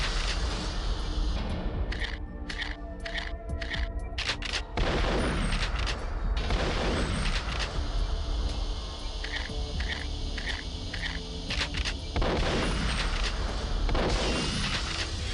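Shotgun blasts in the Perfect Dark PC port, a run of loud rhythmic shots in rapid clusters over busy game combat noise, no voice over them.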